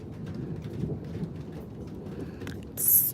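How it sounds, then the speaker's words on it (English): Late-night thunderstorm with steady rain and low rumbling thunder throughout, ending in a louder burst of hiss near the close; no voices. "Guys, it's thunderstorming. Do you hear it?"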